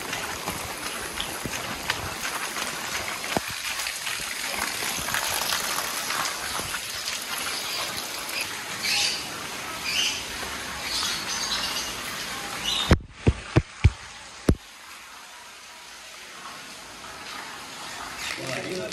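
Heavy rain in Gujrat pours down and water rushes and gushes steadily, a dense, loud wash of noise that continues for most of the stretch. It ends in a few sharp knocks and then a quieter tail.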